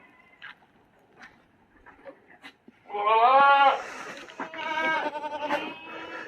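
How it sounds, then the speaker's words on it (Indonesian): Several Sapera goats, a Saanen cross, bleat loudly in a semi-free-range farm pen, their calls overlapping in a burst after a few seconds of quiet yard noise. "Di sebelah kanan tampak untuk umbaran beberapa kambing jenis sapera."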